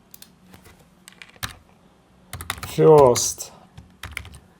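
Computer keyboard typing in short, scattered clicks, with a brief spoken word in the middle.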